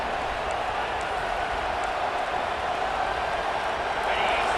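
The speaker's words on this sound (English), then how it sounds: "And the crowd coming to life here, trying to help this defense down in the red zone." A large video game stadium crowd in EA Sports College Football 26 roars in a broad, steady wash of cheering that holds at an even level throughout, during an Ohio State versus Michigan football game.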